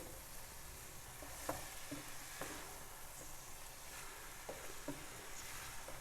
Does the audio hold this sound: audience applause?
no